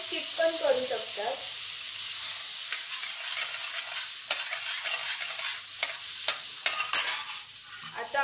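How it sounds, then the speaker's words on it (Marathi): Oil and a little butter heat in a kadhai, giving a steady, close hiss and sizzle with a few sharp clinks and scrapes of stirring, clearest toward the end. "त्यासाठी कढईमध्ये मी तेल टाकतीये आणि थोडं बटर टाकतीये"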